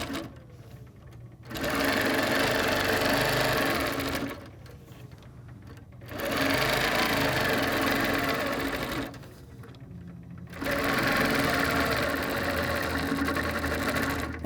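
A sewing machine quilts across a quilt in three long, steady whirring runs with brief quiet pauses between them, close and clearly audible.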